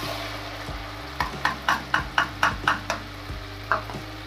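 Tomato paste fries in a pan while being stirred, making a run of regular scraping strokes roughly every quarter second over a continuous sizzle, fairly close and loud, with no talking.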